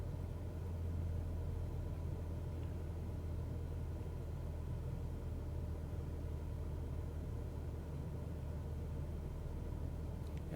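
A Cessna engine in a flight simulator drones near idle on final approach, a steady low rumble holding at constant level throughout with no voices.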